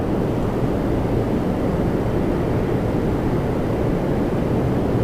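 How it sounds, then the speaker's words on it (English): Embraer 175 jet of Jazz Aviation flying for Air Canada Express landing at Toronto Pearson, a steady broad rushing roar with wind, loud and unbroken throughout. "Embraer 175 from JFK. Jazz Aviation flying for Air Canada Express."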